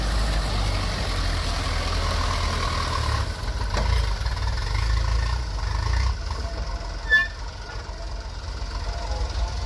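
A dump truck loaded with mud sits with its engine running on an uphill, curving haul route, giving a steady low rumble throughout and a brief knock near the end.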